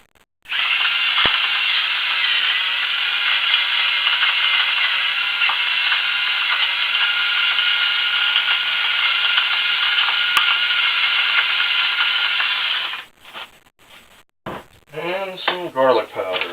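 Salt ground in a pepper grinder while cooking piccata: a close, continuous raspy grinding that runs steadily for about twelve seconds, then stops, followed by a few clicks and speech.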